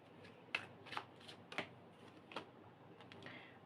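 Tarot cards are shuffled softly at close range, giving a few light flicks and riffles spread over a few seconds in a quiet room.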